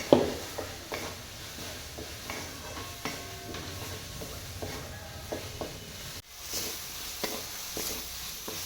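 Ground ginger, garlic and coconut roasting in a hot pan for a gravy, giving a steady soft sizzle with repeated light taps and scrapes of stirring, a brief dip in the middle, and no talk.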